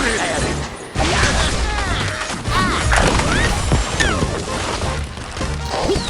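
Structures smashing and crashing in the video game Angry Birds, with repeated thuds, cracks and breaking debris over a continuous busy game soundtrack, loud and dense for several seconds.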